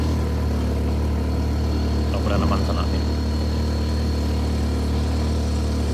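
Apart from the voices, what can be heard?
motorcycle climbing uphill on dirt road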